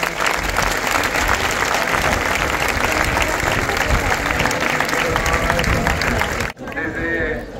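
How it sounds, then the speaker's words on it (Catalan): Loud, sustained applause from a large crowd at a bull-running festival in Masdenverge, a dense wash of clapping that cuts off abruptly near the end, leaving some quieter background noise. "Un aplaudiment."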